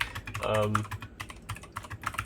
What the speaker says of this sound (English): the brown switches on this keyboard feel really good. They're really nice to type.